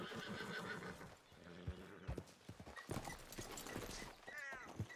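A horse in a Western ranch role-play video game whinnies with a rising, wavering call near the end, after a stretch of clip-clopping hooves and busy game sound in the background.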